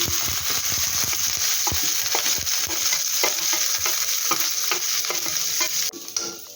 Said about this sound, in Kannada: ಇದನ್ನು ಕೂಡ ಫ್ರೈ ಮಾಡ್ತೀನಿ